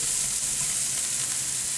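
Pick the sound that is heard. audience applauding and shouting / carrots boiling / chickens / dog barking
carrots boiling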